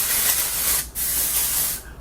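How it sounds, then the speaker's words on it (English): Way Texture hairspray sprayed from an aerosol can, two long, steady hissing bursts with a brief pause between them, close and fairly loud, without any talking. "And then you spray it in your hair."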